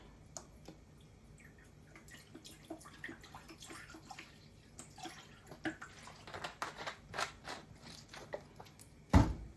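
Bottled lemon juice poured into a bowl while making apple pie filling gives a faint, close liquid trickle with scattered drips and small splashes, no talking.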